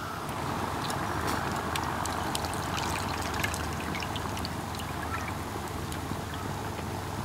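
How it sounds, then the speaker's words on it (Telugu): Tamarind water poured into a pot of dal for tamarind dal, a steady continuous liquid pour with a trickling wash of sound, fairly even in level throughout, no voices. "అయితే ఆ వాటర్ ఇందులో వేసాయి పప్పులో."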